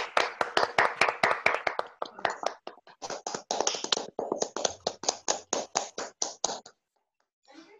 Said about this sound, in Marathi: सगळ्यांना अनम्यूट करतो आणि सगळ्यांनी एकदा जोरदार टाळ्या सगळ्या